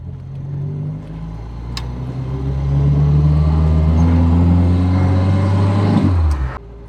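Left-hand-drive Reliant Robin three-wheeler on the road in the Netherlands, its small engine droning loud and close and rising steadily in pitch as it accelerates through a gear, then dropping away abruptly at the end.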